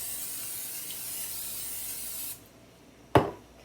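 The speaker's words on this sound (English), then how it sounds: "We'll use the olive oil spray." A continuous hissing spray from an olive oil spray can lasts a couple of seconds, then stops, followed by a sharp knock and a short scrape.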